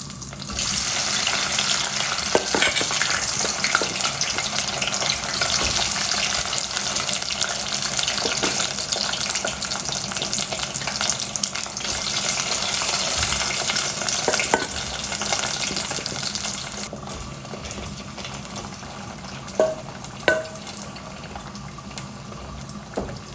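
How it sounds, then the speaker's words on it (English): Loud, continuous crackling sizzle of potatoes deep frying in hot oil, steady throughout with a few sharper pops near the end, no voices. "in the oil, we're going to be deep frying our potatoes"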